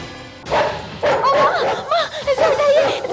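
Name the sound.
police squad dog barking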